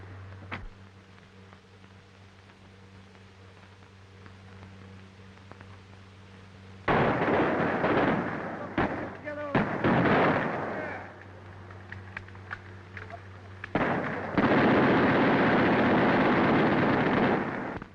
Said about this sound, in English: One of the Arabs is shooting down his own men.